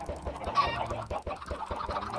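Chickens clucking in Minecraft, a steady run of short soft clucks and low pulses with no talk, fairly quiet and close.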